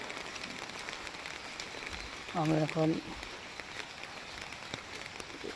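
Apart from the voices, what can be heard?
heavy rain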